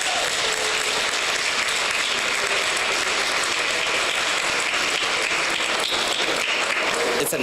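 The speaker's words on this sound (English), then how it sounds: "Let's give a big round of applause to" Audience at a public school board meeting applauding, a dense, sustained round of clapping from many hands that continues steadily throughout, fairly close and loud.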